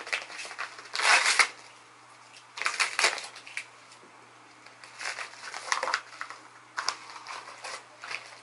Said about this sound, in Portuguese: Eu vou abrir assim na mão mesmo, que eu acho que não precisa de tesoura